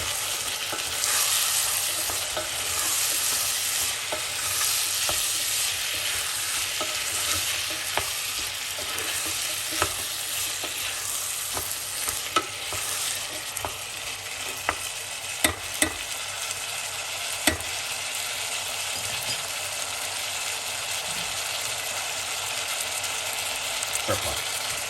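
Chickpeas stirred around in a hot frying pan, a steady close sizzle running throughout with scattered scraping clicks and taps from the utensil against the pan.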